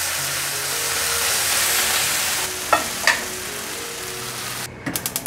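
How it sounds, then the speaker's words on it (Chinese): Seasonings, including five-spice powder and sugar, are stir-fried in a hot wok with a steady, close sizzle. A few sharp spatula scrapes and clanks break through, and a quick run of taps closes it. "把所有调味料炒匀，炒到所有味道都融合"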